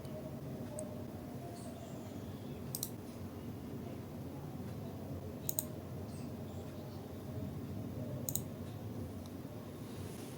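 A computer mouse clicks a download button: a few sharp, separate clicks spaced several seconds apart over a steady low hum.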